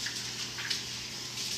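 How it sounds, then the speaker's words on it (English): Running tap water splashing over hands being rinsed in a home kitchen, a steady close hiss of flowing water with no voices. "I'll just rinse my hands real quick"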